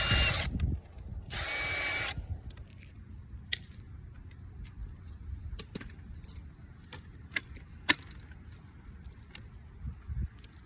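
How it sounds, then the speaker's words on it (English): A DeWalt cordless rotary hammer whirs loudly in two short drilling bursts, then quieter clattering and handling noises follow with a few sharp knocks. "It's basically a cordless mini jackhammer. It also drills holes."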